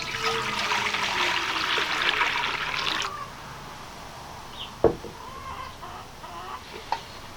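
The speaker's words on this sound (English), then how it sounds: "We're just gonna pour it in the pail, see how it fills up." A quart of water is poured into a pail, making a steady rushing splash for about three seconds that stops abruptly, followed by a few faint knocks and quiet handling sounds.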